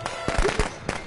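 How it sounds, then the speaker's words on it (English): A quick burst of firecrackers pops in the Friday the 13th video game, several sharp close cracks in rapid succession within about a second, with no talking. "I just put firecrackers on Jason and then knocked him out"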